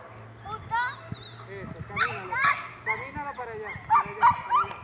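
A working dog gives a few short barks and yips beside a child, with people talking over much of it.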